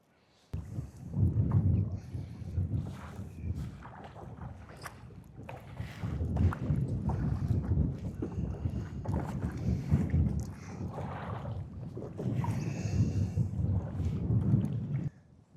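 A rental kayak paddles across Claremore Lake on a windy day, with rhythmic swishes and splashes of the paddle in close-up strokes and light wind noise between them.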